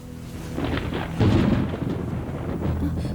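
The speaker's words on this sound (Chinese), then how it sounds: "打雷了，" Thunder rumbles low and heavy, a rolling boom that swells partway through and lingers under a steady background wash, with no one speaking.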